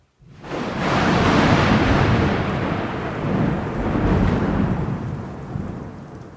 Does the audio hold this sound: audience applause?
no